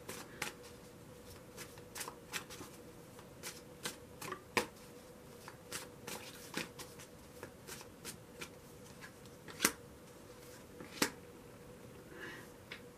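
Tarot cards being shuffled by hand, a steady run of crisp riffling flicks and soft slaps repeating close up over a quiet room, with no talking.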